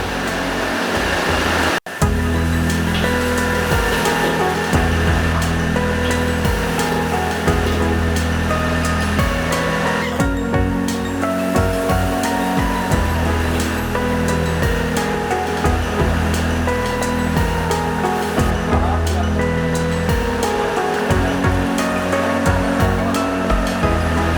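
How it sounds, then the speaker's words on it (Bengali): Battered bhetki fish pieces deep-frying in a kadai of oil in the kitchen of Kimling, a Kolkata Chinatown restaurant, produce a loud, roaring, continuous sizzle over a steady background hum, with no talking. "মিশ্রণ মাখানো ভেটকি মাছের খণ্ডগুলো ডুবো তেলে ভাজতে হবে"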